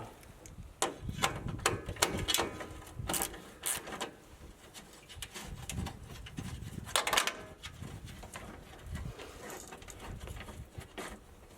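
Hand ratchet working a bolt loose on a 1997 Dodge Ram Van during radiator removal, giving bursts of rapid clicking and metallic clanks at close range, uneven in rhythm across the whole stretch.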